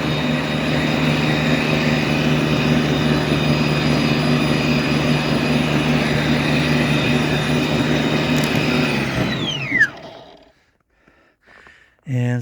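A Ryobi 408150 22-inch snowblower runs with a loud, steady droning engine and auger roar for about ten seconds, then winds down and cuts off, leaving near silence before a brief final burst.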